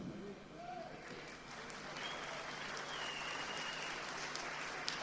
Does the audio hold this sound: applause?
yes